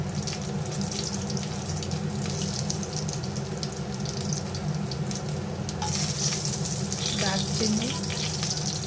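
Bay leaf, two dried red chillies and cumin seeds fry in hot oil for a Bengali rohu fish curry. A dense, steady crackling sizzle runs throughout at moderate loudness, with faint clinks near the end.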